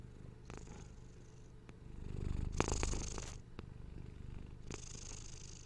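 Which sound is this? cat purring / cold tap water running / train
cat purring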